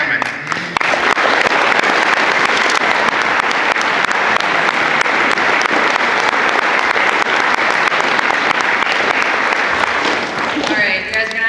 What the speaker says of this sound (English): Would you please help me give a round of applause and a warm welcome to Jaleesa Bright Hammond.